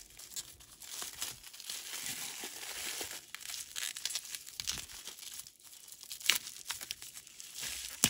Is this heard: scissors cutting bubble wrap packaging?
yes